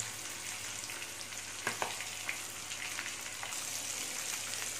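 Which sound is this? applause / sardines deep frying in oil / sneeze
sardines deep frying in oil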